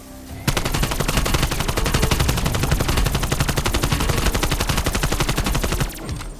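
AK assault rifle fire in Call of Duty Zombies, a sustained rapid automatic burst lasting several seconds, loud and close, starting abruptly and cutting off near the end, with no talking.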